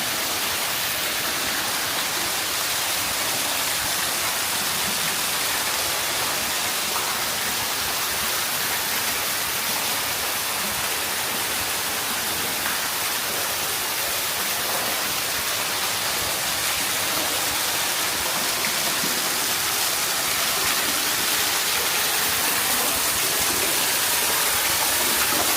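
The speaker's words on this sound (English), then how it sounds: "Who does not love a good waterfall?" A waterfall at a botanical garden pours in a continuous, dense rushing hiss, steady and fairly close, with no talking over it.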